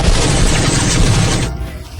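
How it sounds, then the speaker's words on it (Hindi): A loud burst of army gunfire, rapid overlapping shots and booms rolling together like a fusillade for about a second and a half before fading into a dull rumble. "फौज की गोलियां बारिश की तरह मुझ पर बरसने लगी"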